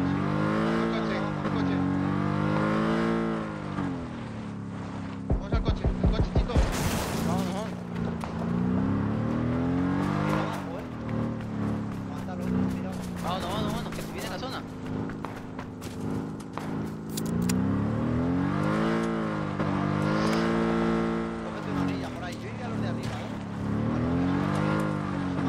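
A car engine in PUBG on PS5 drones and revs continuously with rising and falling pitch, with brief crashes and clatter; voices talk over it.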